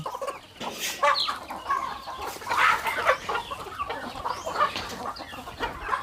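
Young chickens cluck and peep continuously in a busy, overlapping chorus, close and fairly loud, with no talking.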